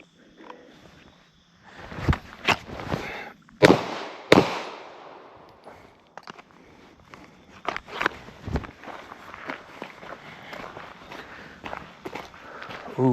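Pistol shots fired at targets on a range from a concealed draw, sharp loud cracks in two clusters with quieter shuffling and handling noise between them, up close.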